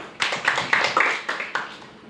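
A class of students claps together in a classroom, producing about five or six quick bursts of hand claps, fairly loud and close, then fading out.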